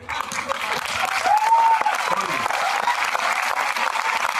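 An audience applauding at a wellness event show in a hall, a dense, sustained clapping from a large crowd with a faint voice and a brief whistle-like tone partly audible within it.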